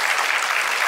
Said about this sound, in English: very big round of applause